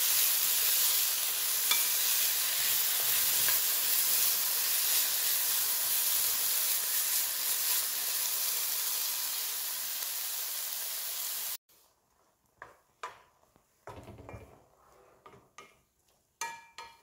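Ethiopian meat tibs sizzle loudly in a pan over high heat, a dense steady hiss for about eleven seconds, then scattered clanks and scrapes of stirring against the pan in quieter surroundings.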